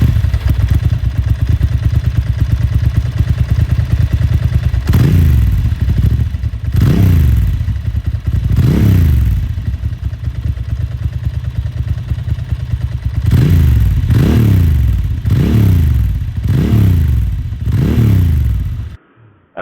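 A 1997 Ducati Monster 900 motorcycle being ridden, its engine loud and close with a steady rumble broken by repeated rising-and-falling revs, two bursts of several throttle blips each, with no talk.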